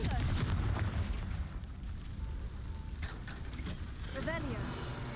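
Confringo blasting spell in Hogwarts Legacy: a heavy, rumbling burst of fiery impact at the start that decays into a crackling, noisy tail, with a short voice call near the end.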